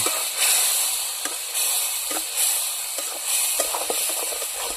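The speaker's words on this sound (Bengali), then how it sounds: "এখন আমি ভালো করে মশলাগুলো" Spice powders with chilli, black pepper, salt and turmeric sizzle steadily in a pan while being sautéed for a village-style bottle gourd curry, with a constant hiss and occasional soft scraping stirs, no voices.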